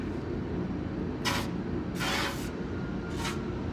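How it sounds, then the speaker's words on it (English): Three short hissing bursts of penetrating spray from an aerosol can onto an exhaust clamp of a Silverado 5.3L, close by, over a steady low rumble of background noise. "So we can go ahead and spray this clamp here."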